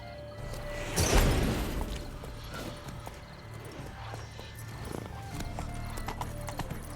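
Horse hooves clip-clop in a steady rhythm through The Witcher 3, with a louder burst of commotion near the start, then a continuous moderate trot over ambient game sound.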